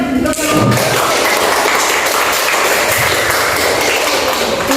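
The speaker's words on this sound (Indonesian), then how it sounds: "Ya, tepuk tangan." Applause from a classroom audience after a group presentation at a teacher-training session, dense steady clapping that fills nearly five seconds at close range.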